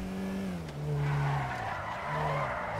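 Tires squeal as a car drifts in GTA V roleplay, a loud sliding screech rising and falling over a droning engine tone, with no talking.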